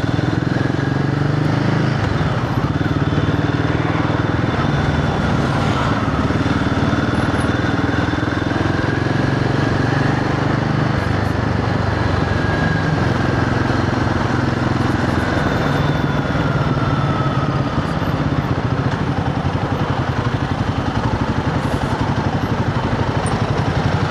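A Royal Enfield Guerrilla 450 motorcycle engine drones steadily throughout, with a continuous mid-pitched hum and slight pitch shifts as it moves, loud and close.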